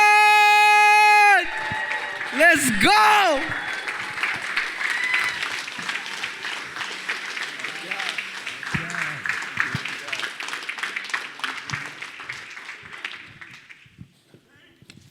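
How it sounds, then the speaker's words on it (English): A large live motivational-event audience bursts into applause and cheering as the speaker is introduced, following a brief musical sting. Sustained clapping slowly tapers, and a voice shouts once over the crowd. "Everybody get up and give a grand round of applause to Inky Johnson!"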